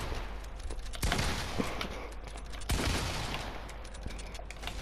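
Gunfire from the video game Fortnite comes as two sharp shots about two seconds apart over a steady low background, each trailing a brief rattle with faint clicks between.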